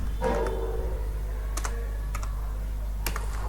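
Code is typed on a computer keyboard, a few scattered keystroke clicks, close and fairly quiet over a steady low hum, with no voices.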